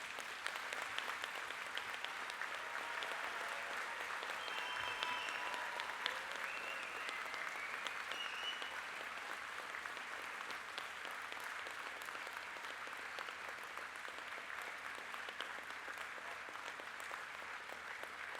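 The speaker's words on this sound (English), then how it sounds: "please join me in congratulating the graduates by giving them a warm round of applause" A graduation ceremony audience for engineering and information sciences graduates gives a long, even round of applause, a steady wash of many hands clapping at a distance that lasts the full stretch without pause.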